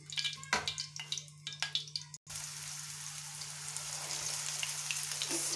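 Peshawari chapli kababs dropped into hot oil set off a steady, close frying sizzle with spatters and crackles, after a few scattered pops and drips earlier on; a low hum runs underneath.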